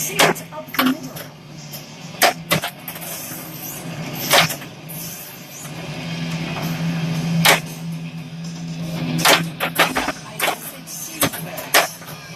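A Stern pinball machine in play during a Rhyme of the Ancient Mariner mode, with repeated sharp clacks of flippers and ball hits over a low electronic hum and game sounds.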